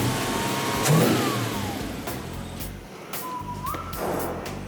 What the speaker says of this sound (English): Now that I have the new carburetor installed, I'm gonna start the engine and get it tuned up.